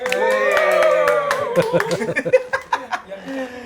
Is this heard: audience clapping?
yes